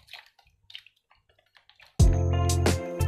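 Clean water poured over a spear heirloom (tombak pusaka) after a soaking ritual, a loud steady splashing gush that starts abruptly after quiet handling noises and runs continuously to the end.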